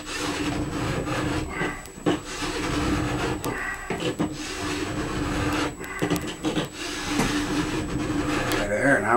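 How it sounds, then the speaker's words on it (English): A hand file scrapes along a plastic ski base during tuning, giving steady rasping strokes with brief breaks between passes; the sound is close and fairly loud, with some background noise. "I can really feel I'm into plastic, or my file's getting cloggy here"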